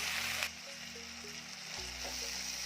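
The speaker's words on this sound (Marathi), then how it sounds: "यामध्ये थोडीशी डाळ आपण परतून घेणार आहोत." Soaked dal sautéing in hot oil in a pan while cooking a quick safflower-leaf (kardai) vegetable dish, giving a steady, fairly quiet sizzle with a few soft stirring touches and no talk.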